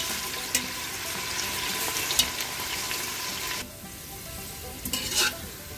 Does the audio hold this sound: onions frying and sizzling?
yes